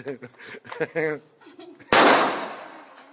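A single loud, close gunshot from a handgun cracks out sharply and rings off, following a stretch of nearby talk.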